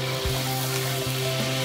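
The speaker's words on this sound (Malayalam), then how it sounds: "1/2 കിലോ ഡാൽഡ ഇതിനകത്ത് ഇളക്കി കൊടുക്കാം അല്ലേ? പെട്ടെന്ന് മെൽറ്റാവാൻ വേണ്ടി." Half a kilo of Dalda vanaspati melts in a pot for catering biryani, giving a steady close sizzle with low scraping strokes as it is stirred, over a constant stove hum and no talking.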